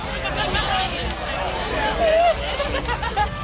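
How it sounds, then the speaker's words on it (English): Dense crowd babble at a University of Florida football game tailgate, with many overlapping voices, scattered laughter and chatter near and far around the listener. "And look at that crowd."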